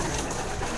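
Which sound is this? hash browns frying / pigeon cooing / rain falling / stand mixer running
pigeon cooing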